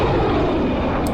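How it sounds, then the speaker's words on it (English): Jet planes roar overhead in the Killer7 video game, a dense, continuous rushing engine drone that holds steady and loud for the whole moment with no voices. "bunch of jet planes."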